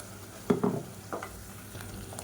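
Ground masala paste for egg thokku sautés in a pan, with a couple of close scraping stirs over a soft, steady sizzle.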